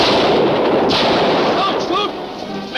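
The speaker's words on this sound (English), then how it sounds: "What's the idea of taking a shot at me?" A single gunshot in a 1943 movie serial is followed by a noisy, booming tail and faint scattered sounds.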